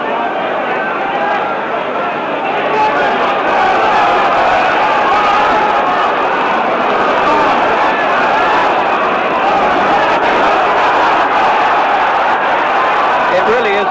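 A large Wembley crowd roars continuously throughout a 1971 heavyweight boxing bout between Joe Bugner and Jack Bodell in London, a loud, dense wall of cheering with steady intensity and faint voices mixed in.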